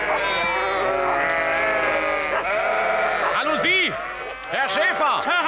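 Sheep on a road bleating repeatedly, several overlapping calls near and loud, with people talking beneath them.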